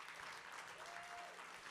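An audience at a high school poetry slam claps steadily for a poet for a short stretch, a dense even patter heard at a moderate distance.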